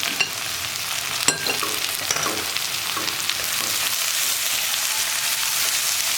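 Onion sizzles and crackles steadily in a pan with curry leaves and salt, a continuous close fry broken by a few sharp stirring clinks and scrapes near the start.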